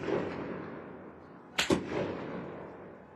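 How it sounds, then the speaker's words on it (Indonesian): Gunfire from IRGC forces in Iran, a sudden sharp double crack of shots against a dull background rumble, fairly close and echoing briefly, with no speech. "mereka melepaskan tembakan ke arah yang mereka kira suara itu berasal"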